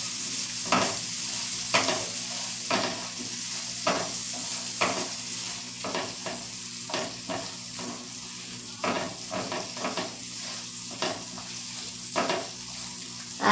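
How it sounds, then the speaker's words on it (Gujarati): Whole peeled garlic cloves stirred in a hot pan for matar paneer, a steady background sizzle broken by repeated scraping strokes of the spoon, close and fairly even in rhythm, with no voices. "લસણની કળી પણ આપણે આખી જ લીધી છે ફોલીને અને બરાબર મિક્સ કરી લઈશ"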